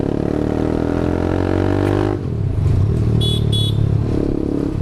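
A TVS Apache RR 310 single-cylinder motorcycle with an Akrapovic full-system exhaust runs nearby, a loud steady engine drone that drops briefly midway before resuming, with a couple of short high chirps near the end.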